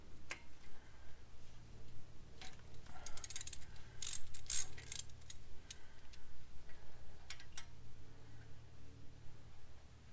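Quiet ratcheting clicks and light mechanical ticking as a T35 Torx bit works a bolt loose on a Jeep Wrangler JL during a ball joint job, steady and close with no talk.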